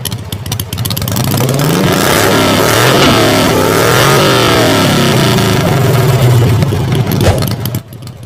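A motorcycle engine revs loudly and close by for several seconds, rising and falling in pitch with clattering mechanical noise, then cuts off near the end.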